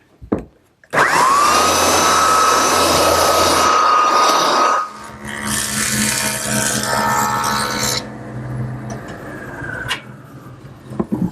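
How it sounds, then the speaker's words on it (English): A belt sander on wood gives a loud, steady whine for several seconds, then drops to a lower, rougher grinding drone before trailing off near the end. "I'm ready to give each side a light sanding with my belt sander"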